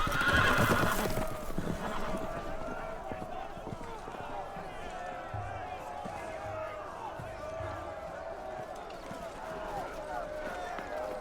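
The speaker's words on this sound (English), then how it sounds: "The horses! They're loose!" A horse whinnies loudly at the start in the video game Game of Thrones, followed by the steady clip-clop of loose horses galloping and jostling commotion, with voices in the background.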